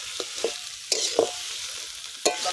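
A spoon scrapes and stirs a spiced cauliflower mixture in a hot pan, several distinct scraping strokes over a soft steady sizzle, close and moderately loud.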